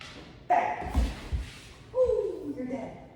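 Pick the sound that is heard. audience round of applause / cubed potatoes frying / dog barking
dog barking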